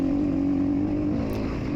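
A heavily modified Honda CRF Rally 301 dual-sport motorcycle with a big bore kit and higher compression holds a steady, droning engine note while riding near Moab, Utah, with loud continuous wind and engine noise and no talk.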